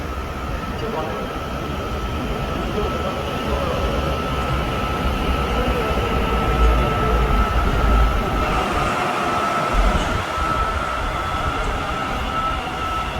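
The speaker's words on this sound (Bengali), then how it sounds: "Doors will open on the right. Please mind the gap between the train and the platform." A Kolkata Metro train runs with a loud, steady rumble of wheels on rail and a faint squeal, while voices murmur underneath throughout.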